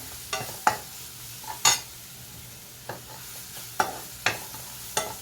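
Ginger-garlic paste roasts in a pan before ridge gourd goes in, with a soft low sizzle under several sharp spoon-on-pan scrapes and clinks at irregular intervals, close and fairly quiet.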